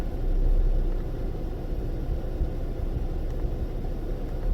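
A Jeep engine with a cylinder misfire runs nearby in a low, steady rumble with a faintly uneven, stuttering texture, heard alone without speech.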